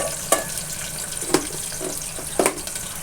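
Tomato sautés in a pan for soybean rice, a low continuous sizzle with three sharp spatula scrapes or crackles at spaced intervals, close by and without talk.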